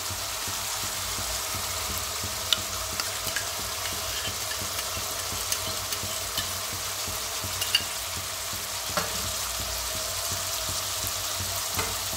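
Yogurt stirred into a cashew masala curry sizzles steadily in the pan, an even, close frying hiss with occasional faint clinks of a spoon, with no talk.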